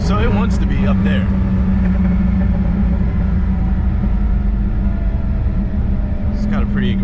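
The engine of a 1977 Porsche 911 Turbo Carrera idles with a loud, close, steady rumble, with brief voices audible at the start and near the end.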